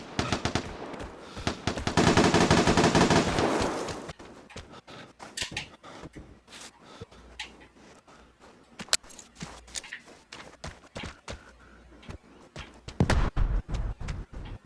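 Gunfire rings out in the online shooter game Vigor: a sustained machine-gun burst lasting a few seconds, then scattered single shots and clicks, and another loud rapid burst near the end.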